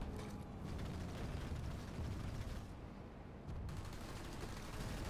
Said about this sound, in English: I keep getting shotgun in the face.